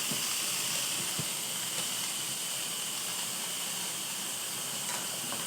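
Steady, loud hiss of steam venting from an Instant Pot pressure cooker during release after cooking BBQ ribs, a constant spraying rush that runs unbroken throughout.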